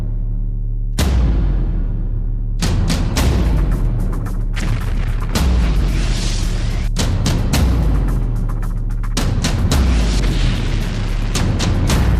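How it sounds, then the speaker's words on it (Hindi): A rapid series of loud, close explosive booms and blasts, repeating every second or two. Each boom is followed by a heavy rumbling tail, fitting an American Javelin missile striking a Russian tank. "ज़ेलेंस्की ने रूस के टैंक पर अमेरिका की ज़ैवलिन मिसाइल चलाई।"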